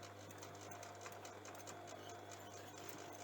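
A sewing machine stitches a replacement zip into denim jean shorts, giving a steady, quiet mechanical whir with a fine rapid needle rhythm and no pauses.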